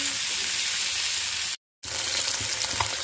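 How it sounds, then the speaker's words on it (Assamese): Potatoes fry in a pan with a loud, steady, dense sizzle that cuts out for a brief moment before resuming just as strongly. "এতিয়া মই ধুনীয়াকৈ আলুখিনি ফ্ৰাই কৰি আছো"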